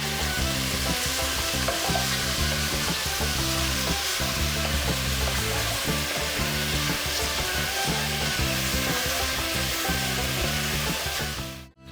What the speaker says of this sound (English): That's just a package of bacon cut up, and we're going to fry it up real quick